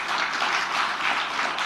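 Steady applause from an audience at a book launch event where Megawati is speaking, a continuous dense patter of clapping at moderate loudness with no clear gaps.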